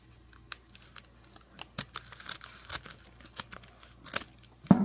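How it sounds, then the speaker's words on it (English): Scissors snip and tear through a package held in place against a knee, giving a series of irregular close crisp cuts and crinkles that build toward a louder thump at the end. "I can use the scissors to get it open"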